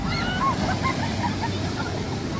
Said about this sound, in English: Oh, those waves are huge.